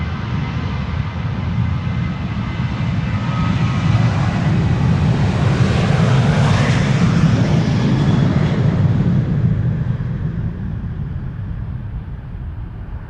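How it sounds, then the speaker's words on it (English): KLM airliner departing Amsterdam Schiphol Airport, a loud engine roar that swells toward the middle, then slowly fades as it moves away. "This is KLM flight 1631 to Venice."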